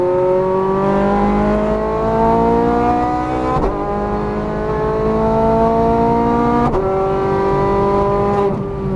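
A Ferrari F430 Scuderia engine screams up through the revs on a Las Vegas race track, rising steadily, with two sharp gear changes cutting in before each new climb, loud and close from inside the car.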